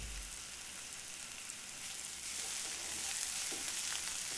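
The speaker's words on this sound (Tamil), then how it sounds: "இப்போ மிளகாத்தூள், கொஞ்சம் மல்லித்தூளையும் போட்டு நல்லா கிளறி விட்டுருங்க" A ginger-garlic masala with chilli powder and coriander powder fries for spring onion chicken, giving a soft, continuous hiss, fairly faint and unbroken, with no voices.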